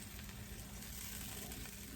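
Brown bits scraped off the bottom of a cast iron skillet while deglazing for a balsamic pot roast, a faint steady simmering sizzle with soft scraping underneath, no talking.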